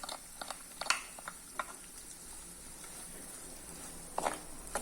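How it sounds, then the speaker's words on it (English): Garlic and onions frying in a pan, a soft steady sizzle with a few sharp clicks and scrapes from stirring, close and fairly quiet. "3 cloves, garlic and stir it a little bit. Add the onions"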